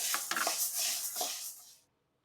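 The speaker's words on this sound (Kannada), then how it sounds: "ಈ ರೀತಿಯಾಗಿ ಬಣ್ಣಲೆಗೆ ಹಾಕ್ಕೊಂಡು ಇದನ್ನ ಫ್ರೈ ಮಾಡ್ಕೊಳ್ಳಿ ಇದರ ಹಸಿ ಪರಿಮಳ ಹೋಗೋ ತನಕ ಇದನ್ನ ಫ್ರೈ ಮಾಡ್ಕೊಳ್ಳಿ" Green gram dry-fries in a pan while a spoon stirs it, giving a close hissing rustle with a few scraping knocks that fades out abruptly.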